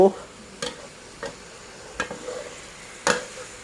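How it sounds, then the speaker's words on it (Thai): Pork with holy basil being stir-fried, a soft sizzle under a handful of separate scraping clacks of the spatula against the pan, close, without talk. "ผัดกะเพราหมู"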